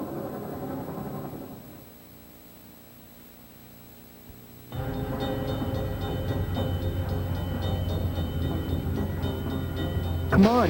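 Train passing a railroad crossing: loud rumble and rattle of rail cars starting abruptly after a quieter stretch with some voices, steady clatter continuing, and a rising horn-like tone near the end.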